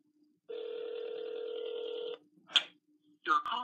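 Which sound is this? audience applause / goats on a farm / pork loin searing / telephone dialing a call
telephone dialing a call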